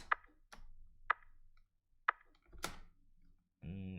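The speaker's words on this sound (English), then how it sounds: "I will not call it a clap, it's more than a small attacky thing, like percussion" Short, attacky clap-like percussion hits from a melodic techno sample in Ableton, three dry clicky strikes about a second apart, followed by a brief noisy burst and a low tonal tail.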